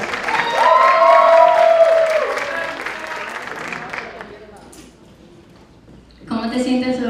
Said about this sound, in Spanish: Melissa Lugo, un fuerte aplauso